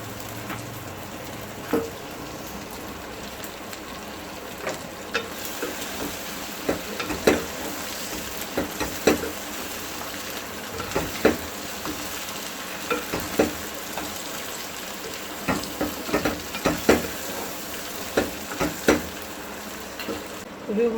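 Okra and chicken keema fry in a pan, giving a continuous sizzle broken by frequent scraping and clattering stirs that are close and steady throughout, with no talking.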